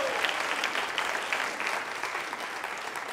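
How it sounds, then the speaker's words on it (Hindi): A crowd at a girls' teacher-training college anniversary quiz show in Jaipur claps steadily and loudly for several seconds, dense indoor applause with no break. "तालियां बजाइए और उनके सम्मान में जोरदार तरीके से।"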